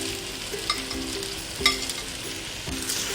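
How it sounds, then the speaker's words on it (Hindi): Paneer cubes being stir-fried for restaurant-style paneer chilli, a continuous close sizzle with spatula scrapes and taps against the pan at irregular intervals. "अभी इन सबको अच्छे से हम मिक्स कर लेंगे।"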